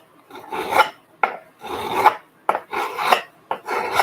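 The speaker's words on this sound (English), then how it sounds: "Give me a sharpening board." A knife blade is dragged across a sharpening board in four long gritty scraping strokes, each opened by a short sharp scrape, heard close with no talking.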